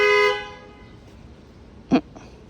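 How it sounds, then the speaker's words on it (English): A car horn gives a sustained honk at the start, followed by a short, sharp toot and a fainter second beep a moment later, heard nearby in a quiet residential setting. "that's the douchebag brothers honking"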